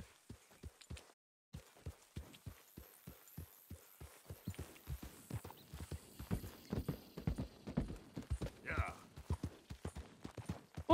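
Horse hooves clip-clopping in Red Dead Redemption 2, a steady walking rhythm of close, distinct hoofbeats that continues throughout, with a brief whinny near the end and a person talking over it.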